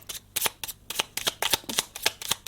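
A deck of Oracle de Gaïa oracle cards being shuffled: a run of crisp, close riffling bursts in an uneven rhythm, with brief pauses between them and no talking.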